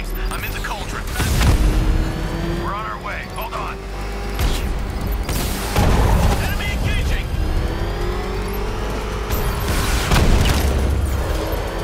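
Enemy fire and explosions in Batman: Arkham Knight: several loud, broadband blasts land a few seconds apart over a constant rumbling engine and mechanical din, with voices mixed in.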